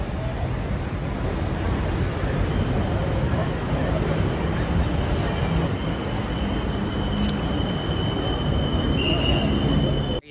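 A train running along its rails gives a steady, dense rumble and rattle from on board, continuous throughout, with a faint high squeal of wheels and people's voices in the carriage.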